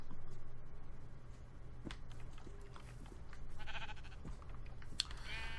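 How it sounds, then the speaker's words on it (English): Sheep bleating in a video game, a few short bleats at moderate distance over a low steady game ambience with soft clicks and footsteps. "So I only need to gather 2 of the sheep, but there are sheep everywhere."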